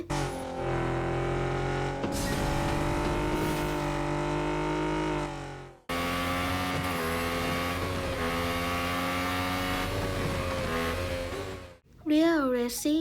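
Race car engines in an offline 3D mobile racing simulator game roar as a continuous droning whine, cut off abruptly twice, then end in a wavering rev.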